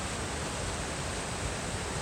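Red Mountain Creek at Red Mountain Pass rushes steadily, giving a dense, even wash of flowing mountain water with no pauses or other sounds.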